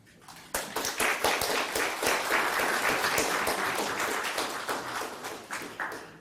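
An audience at a university philosophy memorial lecture claps for the provost. Crisp individual claps come first, then swell into full, steady applause from a roomful of people before thinning out toward the end.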